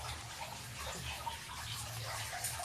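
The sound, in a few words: water draining from freshly steamed wheat-flour dumplings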